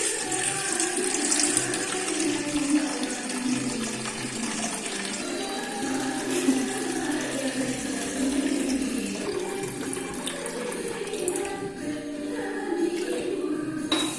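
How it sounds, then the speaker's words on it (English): Milk poured into a large kadai for making kesar malai kulfi, a steady splashing, gurgling stream of liquid filling the pan, continuous and fairly loud with no talking. "Let's now pour the milk to a large kadai."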